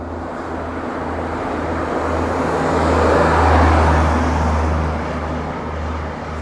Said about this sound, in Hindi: क्या ज़बरदस्त जनरेटर कार चल रहा है इसका। वैग 7 के साथ ये गाड़ी आ रही है।